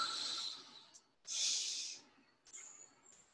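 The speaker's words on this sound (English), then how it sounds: "3 deep breaths" Deep breaths during a core exercise workout: three long, close hissing inhales and exhales in succession, the last one softer.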